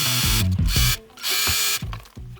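A sewing machine stitches quilt fabric in a 1/4 inch seam, running in three close, loud bursts of rapid whirring stitches separated by brief pauses, with no talking.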